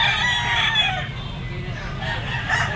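A stag rooster crows at a bustling pet market, its hoarse drawn-out call close and clear over crowd murmur and a faint voice, followed by another short crow near the end.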